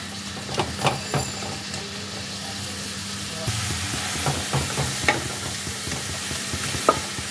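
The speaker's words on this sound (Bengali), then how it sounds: "একটু নরম হয়ে যাওয়া অবধি এটাকে ফ্রাই করব।" Fresh fenugreek (methi) leaves fry in a pan for methi chicken, giving a soft steady sizzle. Scattered spatula clicks and stirring scrapes punctuate it.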